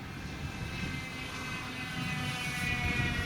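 A Hobby King Avro Lancaster V3 RC model bomber flies at full throttle in close formation with a second one, a steady droning buzz of multiple small electric motors and propellers heard outdoors at moderate distance.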